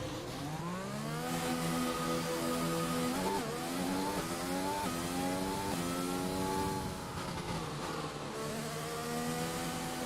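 Racing car engine in the F1 2020 video game, a steady high-pitched whine climbing and dropping through gear changes as the car runs laps, loud and continuous with no talk.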